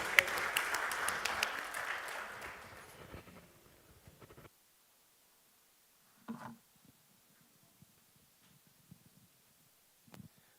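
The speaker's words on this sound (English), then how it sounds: "So that deserves another round of applause." Audience applause at an international health and wellness tourism congress, a dense burst of clapping for about three seconds that thins and stops, followed by near silence with a few faint isolated knocks.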